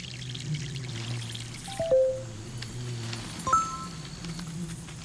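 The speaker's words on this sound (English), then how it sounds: "Let's water these trees, shall we?" Water pouring and splashing as trees are watered in the video game MySims, with two brief brighter game chimes or splashes over a steady game backdrop and music-like hum.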